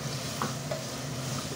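Dried loitta fish cooks with spices in a Sylheti-style pan dish, sizzling quietly and steadily while a spatula scrapes and stirs, ending in a sharper knock against the pan.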